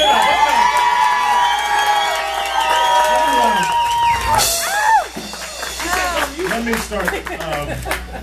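At an election victory speech for Hillsborough's new property appraiser, a crowd cheers, whoops and claps loudly, with excited shouting voices layered throughout and the noise dipping partway before rising in scattered bursts again.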